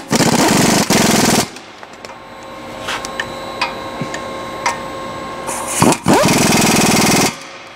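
Rapid, loud rattling bursts of a power wrench tightening the front wheel lug nuts on a new Ford 4x4 truck, two long runs at the start and end with quieter clinks and handling noises between.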